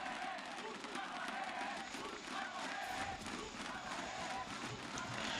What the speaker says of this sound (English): you can feel that crowd